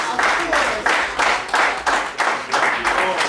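Crowd at an outdoor reunion church service claps in steady rhythmic bursts, loud and close, with a few voices mixed in.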